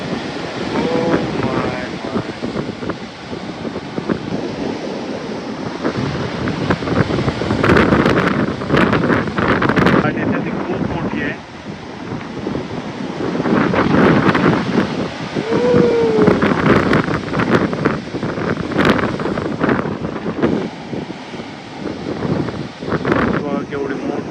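A big sea wave on the Konkan coast, seen from a cliff while fishing, gives a continuous roar of crashing surf and gusting wind that swells and eases, with people talking over it.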